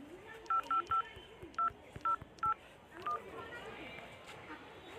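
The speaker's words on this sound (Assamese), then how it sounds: "এই বৈশ্যকে ফোন কৰোঁ নেকি?" A telephone keypad dials a number in a quick series of short beeping tones, some grouped in pairs, followed by quieter background noise.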